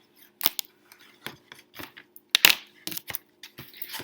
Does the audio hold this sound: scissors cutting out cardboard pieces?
yes